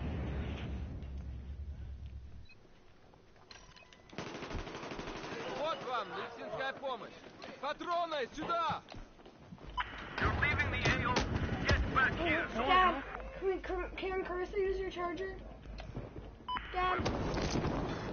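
Gunfire in the video game Battlefield, including shotgun blasts, comes in repeated bursts with explosive booms across the scene, while voices talk over the game sounds throughout.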